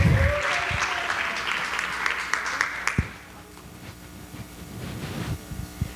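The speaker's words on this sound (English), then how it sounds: "So let's give Creative Arts a round of applause" An audience applauds a high school, Creative Arts, at an advisory board meeting: dense steady clapping for about three seconds, then quickly fading to sparse claps and room murmur.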